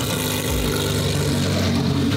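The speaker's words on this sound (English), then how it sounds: "Just start the car." A Lamborghini Evo2 engine fires up and runs with a loud, dense roar that fills the whole short stretch without a break, close by.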